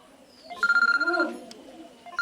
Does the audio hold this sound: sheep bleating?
no